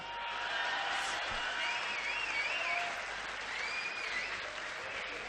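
Audience applause at a Hindi comedy poetry gathering, a steady wash of many hands clapping from a crowd, moderately loud and continuous throughout.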